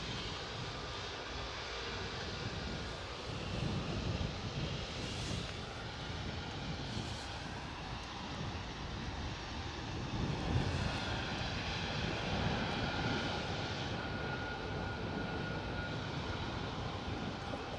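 At Edinburgh airport, an airliner bound on a long-haul flight to Beijing sends out a sustained engine roar that swells and eases gently over the stretch, with no talk over it.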